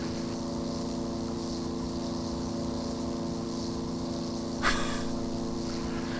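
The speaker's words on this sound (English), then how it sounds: "Sounds like a lawnmower, listen to this." A small aircraft engine on its first IFR flight drones steadily with a buzzing, lawnmower-like tone, continuous and fairly close, with one brief sharp crackle near the end.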